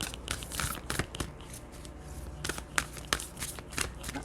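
Tarot cards shuffled by hand, a dense riffling and slapping of card stock that goes on steadily, with bursts of crisp flutters, heard close and alone.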